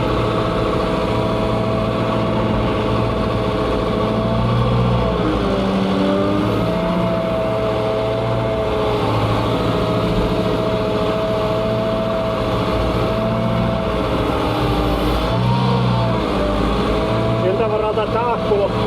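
A homemade snow plow rig's engine runs steadily throughout while plowing, a continuous loud rumble with a voice talking over it.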